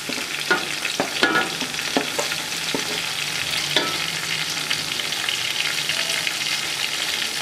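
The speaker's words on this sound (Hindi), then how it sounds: "टमाटरों को अच्छे तरीके से फ्राई करेंगे" Tomatoes fry in a pan for aloo pulao, giving a steady broadband sizzle with a few sharp scraping and stirring clicks near the start. The sizzle then carries on evenly with no voices.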